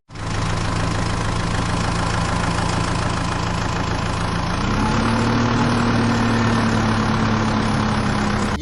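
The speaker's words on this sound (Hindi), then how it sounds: "चलो अब हम ट्रैक्टर ट्रॉली से चलते हैं।" Engine of a cartoon tractor pulling a trolley runs steadily in a loud, low, continuous drone that steps up slightly in pitch midway and then holds, with no voices over it.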